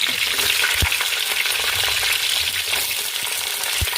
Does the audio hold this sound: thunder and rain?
no